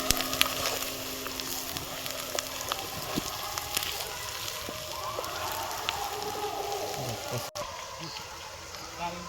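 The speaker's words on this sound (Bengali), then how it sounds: "জিরে গুঁড়ো, দিয়ে এটা ভালো করে ভেজে নেব।" Crab jungle pulao mixture with meat masala and cumin powder frying in a pan, a dense steady sizzle and crackle close up, with a voice speaking over it.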